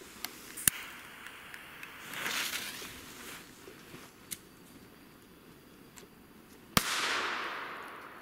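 Scattered small pops and two sharp firecracker bangs, the later one trailing into a hissing crackle, heard from a short distance.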